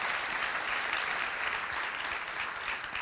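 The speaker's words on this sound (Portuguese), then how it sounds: "Faça o melhor, aplauda mesmo." A church congregation applauds during a sermon, a steady dense wash of many hands clapping together, sustained and even for the whole stretch with no voices standing out.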